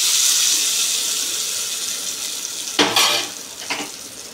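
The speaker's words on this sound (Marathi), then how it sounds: "मस्त तडका बसला आहे" Hot tempering with curry leaves poured into a chutney at home, a sudden loud sizzling burst near the end that crackles briefly, then a second smaller hiss.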